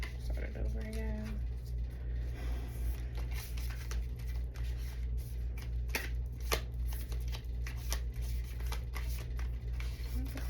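A new tarot deck being shuffled by hand, giving a steady run of soft, papery riffling and flapping close up over a constant low hum. A voice speaks briefly.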